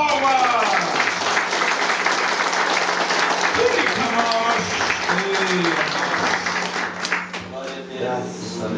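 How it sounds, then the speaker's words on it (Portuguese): Congregation at a church crusade service applauding God together, sustained dense clapping with cheering voices throughout, a preacher's amplified voice rising over the crowd noise. "Glorifique a Deus e dê a Ele uma forte salva de palmas"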